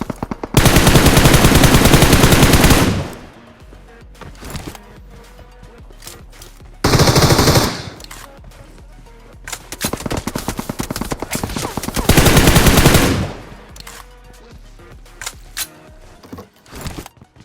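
Gunfire from the mobile battle game BGMI, with long loud automatic bursts and shorter volleys of rapid shots, up close and dominating, separated by quieter gaps of scattered fire.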